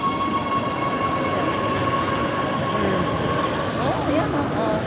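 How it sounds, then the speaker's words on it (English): Light rail train in Oslo, Norway, passing close as a steady rumbling roll, with faint wheel squeals and a high whine rising near the end; a voice comes in briefly. "That is LRT here in Norway."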